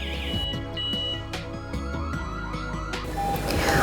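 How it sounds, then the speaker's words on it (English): A GSM WiFi home alarm system's indoor siren sounds loudly in a rapid warbling pattern with sharp beeps, followed by a burst of static-like hiss near the end. "After the siren sound beep beep"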